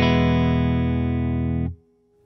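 A PRS 513 electric guitar played through a Fender Princeton Reverb amp with the delay switched off and a touch of reverb; a single sustained strummed chord rings loudly and evenly, then cuts off sharply near the end with a short reverb tail.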